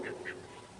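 Two quick, faint quacks from laying ducks on a duck farm in succession, followed by a low steady background hum.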